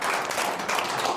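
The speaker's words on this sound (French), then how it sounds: "je tiens aussi à en profiter pour qu'on applaudisse bien fort Ignace" Live studio audience applauding for a cartoonist drawing on a French talk show, a steady dense patter of clapping from many hands filling the short moment, fairly loud and close.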